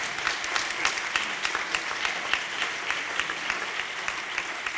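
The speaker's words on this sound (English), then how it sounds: "that definitely deserves another round of applause" Applause from a conference audience after a keynote session, a continuous patter of many hands at some distance, with individual sharp claps popping out evenly throughout and no talking over it.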